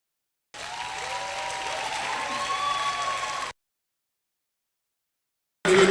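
Audience applause at a university matriculation ceremony: about three seconds of dense, even clapping from a large crowd, then silence before another loud burst begins at the very end.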